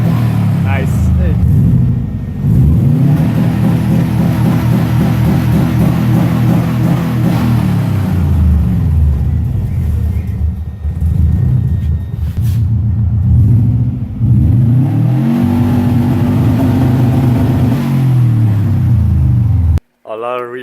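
A Subaru car's engine revs repeatedly against a two-step launch limiter, giving loud rising and falling bursts close by, while people talk over it.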